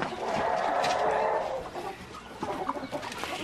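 Chickens cluck while eating at feed time, a busy mixed chorus of clucks heard at moderate distance over a steady outdoor background.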